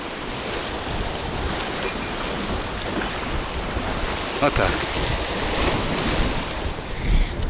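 Stormy wind roars and waves crash at a Black Sea pier in Odesa during a storm, loud and continuous, with buffeting microphone wind noise and a brief spoken word partway through.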